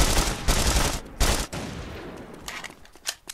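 Sniper rifle fire in The Saboteur video game, loud heavy gunshot bursts in quick succession at the start, then fading into scattered distant shots and rumble.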